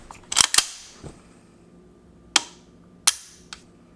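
Sharp metallic clicks from AR rifle triggers being dry-fired, a close double snap at the start followed by several single crisp clicks spaced about a second apart, with quieter mechanical handling between them.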